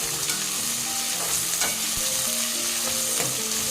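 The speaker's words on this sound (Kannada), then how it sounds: "ಈರುಳ್ಳಿನ ಲೈಟ್ ಗೋಲ್ಡನ್ ಕಲರ್ ಬರೋ ತನಕ ಚೆನ್ನಾಗಿ ಹುರ್ಕೋಬೇಕು" Onions frying in a pan for kushka rice, stirred until light golden: a steady, close sizzle with scraping stir strokes running throughout, no voices.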